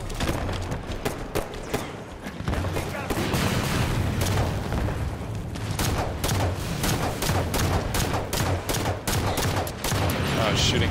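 Halo 5 Warzone Firefight battle with steady rapid gunfire, dense bursts of shots and occasional heavier booms throughout, loud and continuous, with a voice speaking briefly over the combat.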